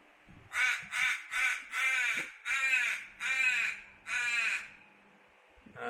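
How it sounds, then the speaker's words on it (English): Seven loud, harsh caws from a nearby crow at Moonee Ponds Railway Station, Victoria, Australia, in a steady series, each call spaced about half a second apart, then quiet. "It's the crow saying good morning to us all."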